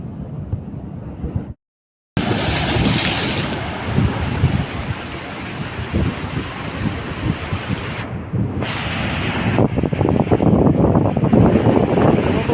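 Rough, stormy sea surf churns continuously with strong wind buffeting the microphone, a loud, dense roar that swells toward the end, with no talk.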